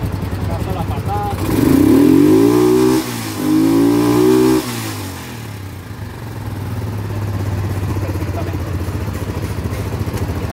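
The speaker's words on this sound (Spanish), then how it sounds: "vean cómo prende esta moto" A 1982 Suzuki DR 250 motorcycle with a rebuilt ignition circuit starts and revs twice in strong rising-and-falling bursts, then settles into a steady, close idle while someone speaks over it.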